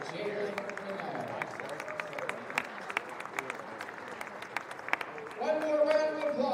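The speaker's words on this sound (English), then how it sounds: "One more round of applause for our 6 seniors." Crowd applause fills a basketball gym on senior night, a steady wash of clapping with scattered sharp claps and cheers, while an announcer's voice speaks over it and music rises near the end.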